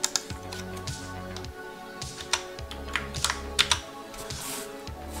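Typing COBOL code on a computer keyboard, with close, irregular clicks and key taps in quick bursts and short pauses, heard alone.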